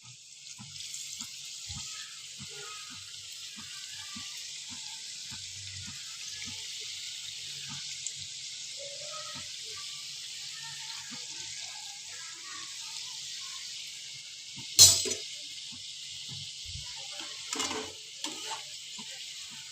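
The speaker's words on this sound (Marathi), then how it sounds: "छान अशा प्रकारे आपण करंज्या तळून घेणार आहोत." Karanji pastries deep-frying in hot oil in a kadhai give a steady, soft bubbling hiss with scattered small pops, heard close but fairly faint, with no voices.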